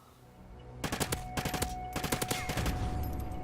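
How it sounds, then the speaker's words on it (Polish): Gunfire from Call of Duty: Ghosts on Xbox One during a Team Deathmatch round: several quick bursts of automatic shots, sharp and close, separated by brief pauses over a low game backdrop. "Cztery strzały, to trochę więcej."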